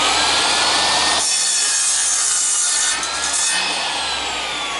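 A radial arm saw cuts through a piece of wood, its loud, continuous whine and blade noise filling the clip with a brief dip partway through and no talking.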